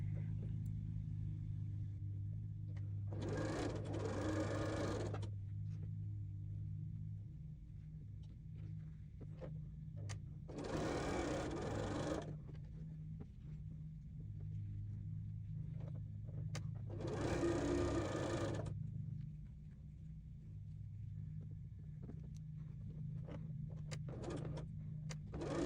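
A sewing machine stitches quilt squares from corner to center for a whirlpool block of half-square triangles, running in three short bursts over a steady low hum.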